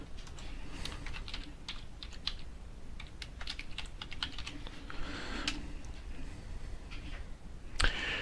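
Fingers tap out a username on a computer keyboard in short, close bursts of clicks with brief pauses between them, ending on a sharper keystroke.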